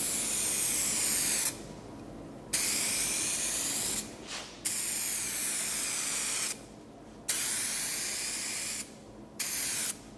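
Spray gun laying a second clear coat on a car, close, steady hissing bursts repeated about five times with short pauses between passes.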